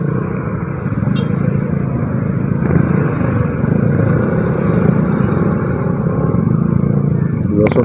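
Motorcycles rumble and pass close by in heavy traffic in Bicutan, a constant loud engine drone and road noise with no clear gaps.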